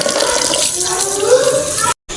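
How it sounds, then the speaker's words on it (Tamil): Water pours steadily from a tap into a pot of rice for soaking, a close, continuous rushing splash that cuts off abruptly near the end. "தண்ணி வச்சு நல்லா ஊற வச்சுக்கலாம்"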